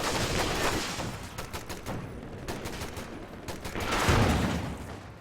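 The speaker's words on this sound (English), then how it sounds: "there are two infantry support guns putting in some damage" Infantry support guns firing in the Company of Heroes 2 real-time strategy game, a steady stream of sharp gunfire cracks with a heavier burst near the end, loud and continuous across the battlefield.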